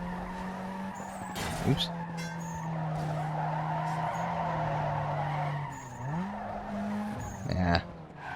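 A car spins out and skids in the Need for Speed Underground 2 racing game, its engine droning steadily with loud tire squeals near the start and again toward the end, and a voice speaking briefly over it.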